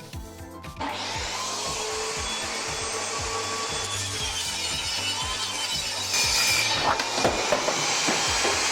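Power saw trimming thin edges off wooden boards for an outdoor sign, a loud continuous whine with a steady rhythmic rasp of blade through wood, growing harsher near the end, with no talk.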